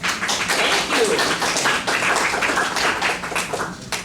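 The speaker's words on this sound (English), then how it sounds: "Give him applause." Audience at a university talk applauding, a dense, sustained patter of many hands clapping for several seconds that fades out toward the end, with some voices mixed in.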